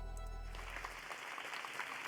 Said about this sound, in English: Everyone applauds the remarkably young, diminutive CEO.